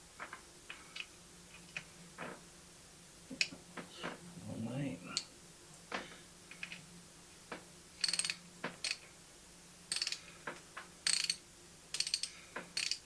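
A 7/16 ratchet wrench working on a T150T gearbox, quick bursts of clicking pawl ticks up close, stopping and starting between short pauses, with a person speaking briefly.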